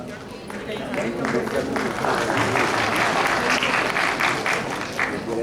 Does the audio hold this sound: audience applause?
yes